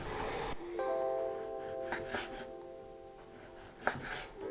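A knife slicing chili or garlic on a cutting board for a warm Spanish shrimp salad, with soft rasping cuts and light taps close by, while a steady tonal hum runs underneath.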